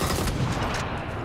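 Gunfire in the battle royale game PUBG, a dense burst of loud shotgun blasts crowding together in quick succession, close and continuous over a busy game-noise bed with no talking.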